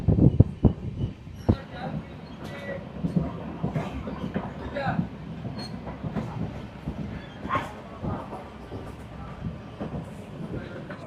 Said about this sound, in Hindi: ट्रेन हमारी चुड़ाई बाड़ी से निकल रही है।